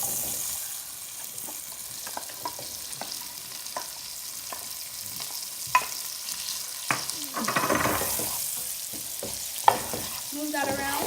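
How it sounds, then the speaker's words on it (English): Onions and garlic sauté in a hot pan, a steady close sizzle broken by scraping stirs and clicks of a utensil against the pan. A brief burst of louder frying comes near the end. "So now I'm noticing that it's time to add in the onions."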